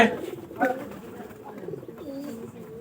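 Soft, throaty cooing of a pigeon, a few rolling coos close by, with faint background noise.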